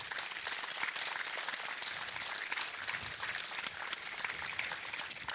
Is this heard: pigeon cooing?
no